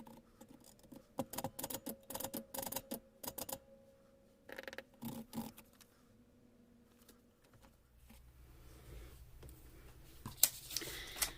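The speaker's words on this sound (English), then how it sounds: "So I'll go get my typewriter and type that out" A typewriter clatters through bursts of rapid keystrokes, pausing between runs, then continues with scattered strikes and a closing clack, heard close and fairly quiet with no talking.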